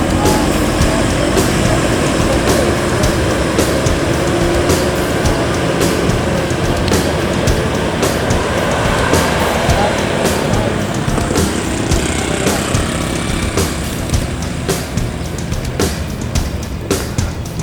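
An ANS Fortuna bus of Siliwangi Antar Nusa pulls out of Solok West Terminal bound for Bengkulu, its engine a continuous close rumble punctuated by sharp ticking clicks throughout.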